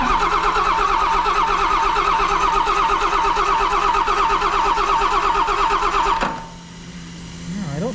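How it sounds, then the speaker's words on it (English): A John Deere engine bought at auction cranks over without starting, the starter churning loudly and steadily for about six seconds before cutting off, followed by a quieter stretch. "Let's go ahead and crank it over"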